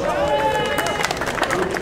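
Applause and cheering rise from a crowd at a masters cyclocross world championship podium in Mol, Belgium, honouring the third-place finisher, a steady patter of clapping under an announcer's voice and crowd chatter.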